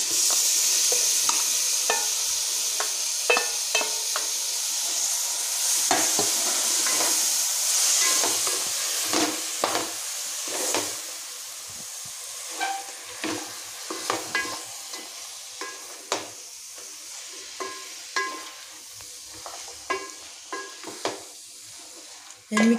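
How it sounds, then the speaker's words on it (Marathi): Vegetables fry in ghee in a pan, a steady close sizzle and hiss running throughout, with scraping stirs and light knocks of a spoon against the pan growing more frequent toward the end; no one talks. "यामध्ये एक चमचा तूप घालूया। यामध्ये आपण भाज्या टाकून घेऊया।"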